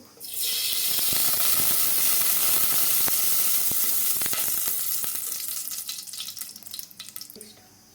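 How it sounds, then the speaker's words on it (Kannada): Mustard seeds sizzle and pop steadily in hot oil for a drumstick sambar, a loud dense frying crackle with sharp seed pops that carries on throughout and fades slightly near the end, with no talking. "ಸಾಸಿವೆ ಹಾಕ್ಕೋಬೇಕು ನಂತರ ಎಣ್ಣೆ ಹಾಕ್ತೀವಿ ನಾವು"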